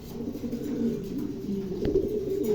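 A pair of pigeons, a black female and a checker male, coo softly nearby in low, rolling, repeated notes, with no talk.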